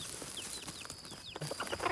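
Chickens clucking outdoors at a rural Thai rice-field farm: several short chirpy clucks and calls from birds close by, fairly faint against a quiet background, with no talking.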